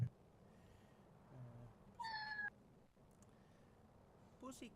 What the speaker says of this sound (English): I love that I hear the cat.